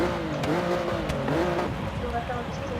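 A powerful car's engine revs and accelerates in the racing game Forza Horizon 3 during a speed test, its rising and falling engine tone steady and prominent, with possible tire noise throughout.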